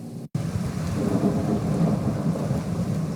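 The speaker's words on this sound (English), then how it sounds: "As soon as the rain started," Thunderstorm with heavy rain during flash flooding around Flagstaff, Arizona: a dense, steady roar of downpour and rumbling thunder that starts abruptly after a brief dropout and stays loud throughout, with no voices.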